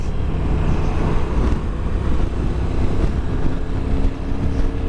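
A 2022 Honda NT1100 DCT motorcycle ridden onto a dual carriageway, heard as a loud, steady engine drone blended with wind rush, continuous and close with no talking.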